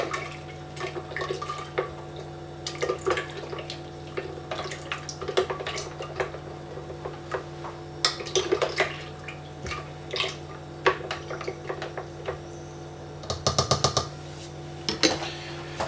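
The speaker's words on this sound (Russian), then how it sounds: "Тщательно перемешиваем." Homemade blackcurrant wine mixture being stirred in a container, soft watery sloshes and clinks of the stirring utensil in an irregular rhythm over a steady low hum.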